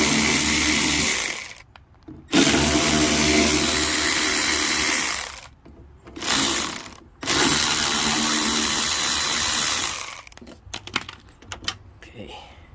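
Power tool driving T30 Torx bolts out of a 2002-06 Nissan Altima front door, several loud sustained whirring bursts separated by short pauses, close up.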